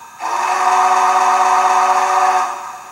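An Athearn 4-8-8-4 Big Boy Union Pacific 4014 model steam locomotive sounds its steam whistle in one steady, loud, chord-like blast lasting a little over two seconds, then fading out.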